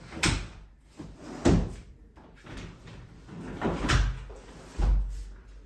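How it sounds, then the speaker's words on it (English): A sliding sash window being pushed shut, a series of soft wooden knocks and thuds with rattling slides between them, close and moderate in level. "You can clean this pane, clean that pane, close the window again."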